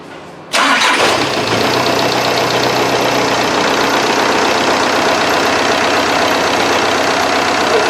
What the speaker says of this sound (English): Okay, now the engine is idling.